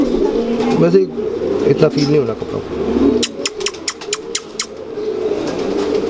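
Ferozpuri pigeons coo in low, soft, repeated calls close by while someone talks over them, followed by a run of sharp clicking or tapping sounds near the end.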